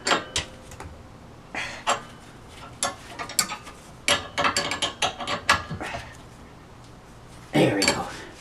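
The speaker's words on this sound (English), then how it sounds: "Right now we should tighten the jam nuts before we forget." A wrench tightening the jam nuts on an inexpensive coilover kit, with irregular metallic clicks and clinks in short clusters, close by, and a stronger burst near the end.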